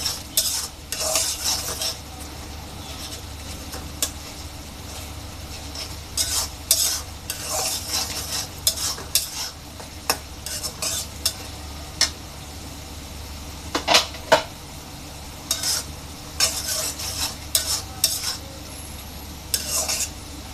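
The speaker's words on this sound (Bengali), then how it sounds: "আমার মশলাটা কষানো হয়ে আসছে, আরেকটু কষানো হবে।" A spice masala for sea fish is stirred and sautéed in a pan, a continuous oily sizzle with repeated scraping and clinking spoon strokes against the metal, close up.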